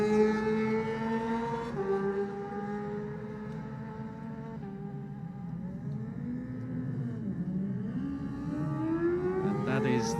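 Isle of Man TT sidecar outfit, a Suzuki-powered racing machine, accelerating hard away from the start, its engine note climbing through gears with a loud, sustained whine and a faint wind-rush behind it, no talk.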